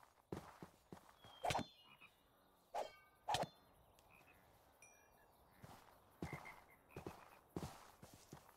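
Frogs croak in a video game swamp, a few loud sharp calls spaced apart over quiet ambience, with softer croaks and faint chirps scattered between them.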